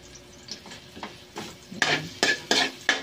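Garlic sautéing in a pan, with stirring scrapes and clinks of a utensil against cookware over a light sizzle, the strokes growing louder and more frequent toward the end, close and with no voices.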